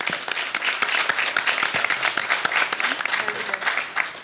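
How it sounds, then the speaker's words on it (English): A crowd at a mock Republican presidential primary debate applauding steadily with dense, sustained clapping and no voices standing out. "Let's give her a round of applause"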